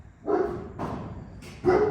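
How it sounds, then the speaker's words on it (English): A dog barks three times in short, sharp bursts with brief gaps between them, fairly close by, near a workshop where the doors are being refitted on a VK Commodore. No one speaks. "I'll see what this dog's barking at"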